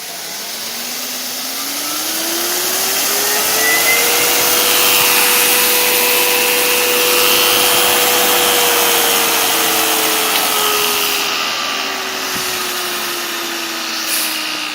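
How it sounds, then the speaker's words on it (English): A variable-speed motor run from a sealed-box controller with a wired remote, humming steadily and loud close by as its pitch climbs, holds and then slowly eases down, with no talking. "I've got a remote wired down here so I can turn it on and then change the speed"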